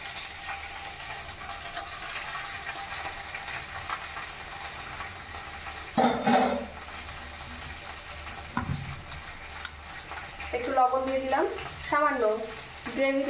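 Steady sizzle of salted okra frying in a pan throughout, with a brief louder clatter partway and some faint voices near the end.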